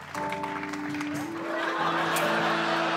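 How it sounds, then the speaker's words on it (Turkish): Studio audience applause at the close of a Turkish talk show, dense clapping swelling under music-like tones and a brief voice at the start, growing louder toward the end. "Sahnedeki herkesi alkışla gönder."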